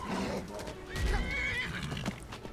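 A horse whinnies in the video game Skyrim, a rising, quavering neigh mixed with hoof clip-clops and game noise, with people talking over it.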